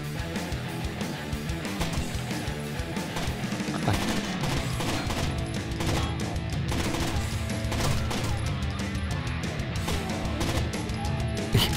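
Gunfire from shooting enemies in Terrorist Hunt, dense sharp shots and impacts layered over busy game sound and music, loud and continuous with no voices.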